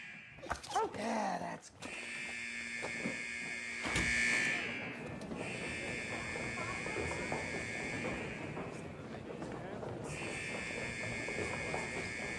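A steady electronic apartment alarm rings continuously at high pitch, cutting in and out a few times while a voice talks underneath.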